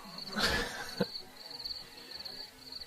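Bugs chirp outdoors in a steady high, thin drone that breaks off briefly and resumes, faint beneath a louder brief rustle and thump near the start.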